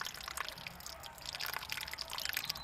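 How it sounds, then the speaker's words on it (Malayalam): Water mixed with oil trickling and dripping as it drains from the engine of a flood-submerged Tata Indica, a faint, steady patter of drops with no voices. "ഇപ്പോൾ കുറേശ്ശെ ഓയിൽ വെള്ളത്തിൻ്റെ കൂടെ മിക്സായിട്ട് വരാൻ തുടങ്ങിയിട്ടുണ്ട്."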